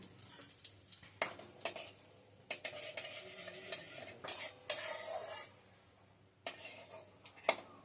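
Cumin seeds and a bay leaf sizzle in hot oil in a pan while a utensil stirs and scrapes, with quiet frying broken by bursts of clatter and one brighter spurt of sizzle.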